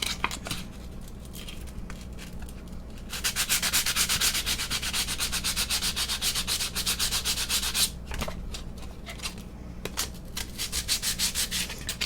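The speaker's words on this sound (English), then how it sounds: "go with the egg against the sandpaper, not with the sandpaper on the egg" Faux malachite Easter egg rubbed against wet sandpaper, a close, rhythmic scratchy rasp in repeated back-and-forth strokes that pause briefly and resume, with no talking.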